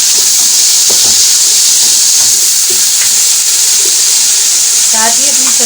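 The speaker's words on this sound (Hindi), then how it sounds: "और अब मैं ये अदरक लहसुन का पेस्ट डाल दूँगी।" Ginger garlic paste hits onions frying in oil in a pan for fried rice, giving a loud, continuous sizzle and hiss with faint stirring scrapes, while someone speaks over the cooking.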